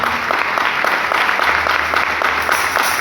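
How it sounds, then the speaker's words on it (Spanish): A congregation at a church vigil service claps in steady, dense applause for about three seconds, loud and close, with no voices over it. "Den un aplauso a esta palabra"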